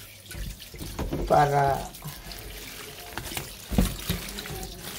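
A kitchen faucet runs as raw chicken is washed for a roast, splashing water with clattering handling in the sink while someone speaks briefly over it.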